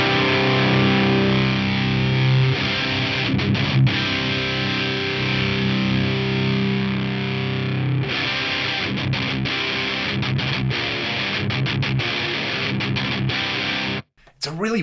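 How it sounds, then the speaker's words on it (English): Electric guitar played through a Carvin Quad-X tube preamp with reverb and delay off, giving a loose, saturated distortion with a flabby low end; sustained chords and riffs ring loud and continuous, briefly cut near the end. "It's a really weird type of distortion, like it just has this kind of looseness to the low end going on."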